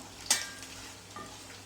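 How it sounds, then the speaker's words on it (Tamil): A brief burst of sizzling as onions hit hot oil, then a steady low frying hiss with a faint stir near the end, cooking for a South Indian dish. "இது நல்லா வதங்கட்டும்."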